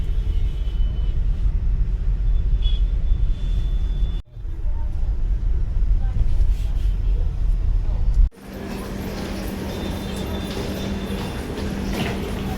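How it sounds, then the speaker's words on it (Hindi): Early-morning road traffic outside a railway station: a continuous low rumble of passing vehicles and engines, heard near, broken by two abrupt cuts, with some voices in the mix. "ट्रैफिक देख लो स्टेशन के बाहर, इतना सुबह सुबह।"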